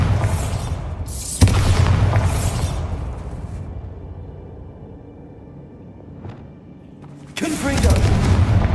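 A spell blast from the Bombarda charm in Hogwarts Legacy: a heavy booming explosion that erupts early, then rumbles and fades into quiet before another loud burst near the end, with a voice speaking over it.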